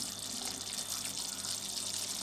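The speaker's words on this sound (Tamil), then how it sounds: "நல்லா கொதி வந்துடுச்சு மிக்ஸ் பண்ணி விடுங்க லைட்டாக" Curry gravy for a spicy black egg curry boiling in a pan, a steady close bubbling hiss that holds evenly throughout the short stretch, with no talking.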